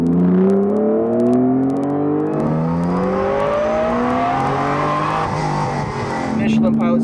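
A supercharged Acura NSX accelerates hard through canyon roads, its engine note climbing steadily through the gears with rising whine, loud and close from inside the car, with a voice speaking over it.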